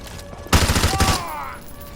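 A burst of rapid gunfire erupts in the game Call of Duty MW2 Remastered, a loud run of close shots that fades into a whining tail.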